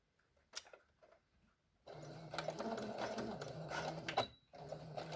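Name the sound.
sewing machine stitching a backstitch on a face mask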